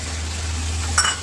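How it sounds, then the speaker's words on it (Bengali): Marinated meat is stirred on high flame in a home kitchen as a low hiss runs under a steady hum. A single quick metallic clink of the spoon against the pan sounds near the end. "এটাকে হাই ফ্লেমে 8 থেকে 10 মিনিট কষিয়ে নেব"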